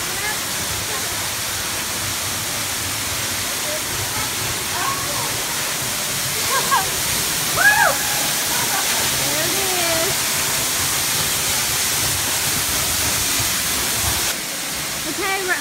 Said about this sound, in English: we're getting ready to walk behind this waterfall